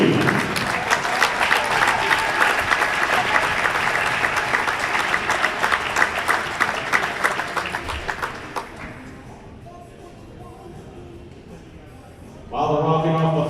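Loud applause and clapping from a crowd at a boys' basketball district championship game, honoring the all-tournament team, sustained for about nine seconds before fading, then a voice speaking over the gym sound system.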